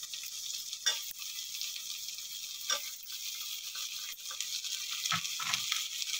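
Small-cut potatoes frying in oil for an onion curry: a thin, steady sizzle with a few scraping stirs of a utensil against the pan, moderately close, no voices.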